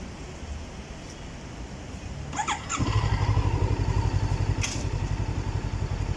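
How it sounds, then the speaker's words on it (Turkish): An RKS M502N 500cc motorcycle is started nearby: a short starter clatter, then the engine catches and settles into a loud, rapid, pulsing idle that continues to the end. "Bir çalıştırayım sesini duyun."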